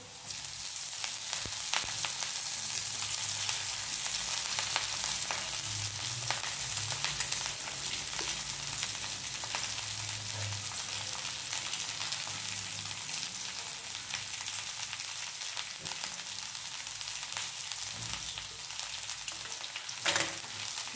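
Ghol leafy greens sauté with chillies in a hot pan, giving a continuous dense sizzle and crackle close up, with occasional faint scrapes of a spatula against the metal.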